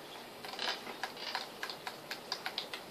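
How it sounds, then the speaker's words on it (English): Rapid, light clicking of computer keyboard keys being tapped during a Crossy Road session on PC, an irregular run of sharp close ticks at moderate volume with no talking. "You hear me tapping them keys?"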